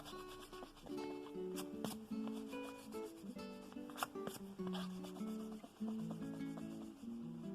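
An eraser rubs pencil marks off a foldable pillar card: quiet, close scrubbing strokes that come and go over several seconds, alone without speech.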